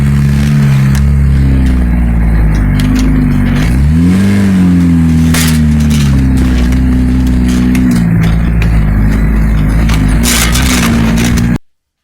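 A 1988 Toyota Hiace van drives across an open field, its engine droning loud and steady with a rising rev near four seconds, the low hum holding close throughout before cutting off abruptly at the end.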